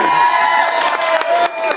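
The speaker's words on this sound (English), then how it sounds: "I get a clap for that too" At a wedding speech, a close, loud crowd breaks into cheering and whoops mixed with scattered clapping and shouting voices, a short excited burst.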